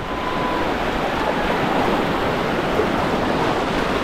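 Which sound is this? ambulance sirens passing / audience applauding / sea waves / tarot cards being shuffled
sea waves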